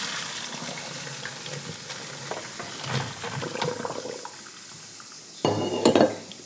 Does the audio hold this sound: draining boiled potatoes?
yes